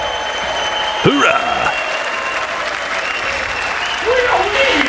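Audience applause at a State of the Union speech by the President in the House chamber, a broad steady wash of clapping from a large room, with someone shouting a cheer and voices talking over it.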